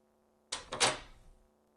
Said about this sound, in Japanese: そこにドアを開ける音がして